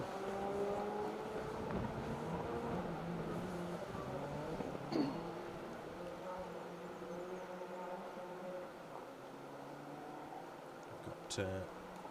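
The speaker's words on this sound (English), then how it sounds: "Sounds very much Fiesta-like in the distance." A Ford Fiesta rally car engine drones and revs far off on a rally stage, steady and faint beneath continuous commentary.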